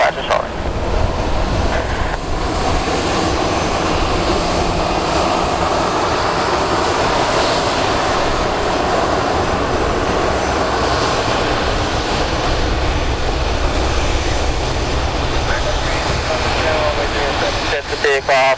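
American Airlines Airbus A319 jet engines roaring through a takeoff run at St. Kitts, a loud, sustained broadband rumble and whoosh heard from inside the cabin, with faint radio talk mixed underneath.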